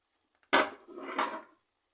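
Fried bitter gourd pieces tip into a pan with one sharp clatter, then scrape and rustle briefly as they are stirred in while a spicy bitter gourd dish is made. No one talks.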